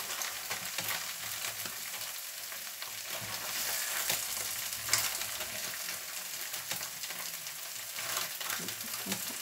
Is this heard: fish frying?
yes